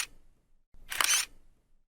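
A camera shutter click sound effect: one short, bright mechanical snap stands out in near silence, with a faint click just before it.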